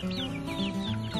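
Young two-month-old Legbar cockerel making soft clucks and thin chirping calls, close and clear, a few quick notes in a short burst with other chicks faintly peeping around it.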